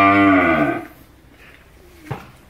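A cow on a cattle farm in Mang Thit, Vinh Long gives one loud, close moo lasting under a second, followed by quiet farmyard ambience and a faint knock.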